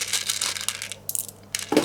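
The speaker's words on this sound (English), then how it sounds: "They're glass beads or jade from a necklace that broke." Glass or jade beads from a broken necklace handled in a container, a few bursts of small hard clicks and rattling as the beads shift and tumble, close and crisp with short pauses between, no voices.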